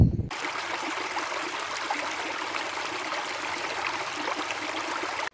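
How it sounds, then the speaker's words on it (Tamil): A small stream of water flows steadily, with a soft continuous trickle and gurgle that stays even and close throughout, with no voices. "சிறிய அளவில் ஓடும் நீர் ஓடை என்று அழைக்கப்படுகிறது."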